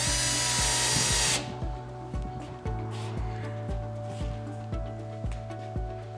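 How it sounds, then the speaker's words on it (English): A power drill drives screws into assembled metal display shelving, a loud high whine at the start, then quieter repeated short bursts of drilling with clicks and taps spaced every second or so. "Now going through and just screwing the shelf off."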